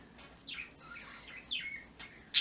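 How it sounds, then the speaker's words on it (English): Covered pet birds chirp in a few short, bright bursts spaced through the moment, fairly faint against a quiet indoor background. "Birds, how are you talking this much and you're all covered up?"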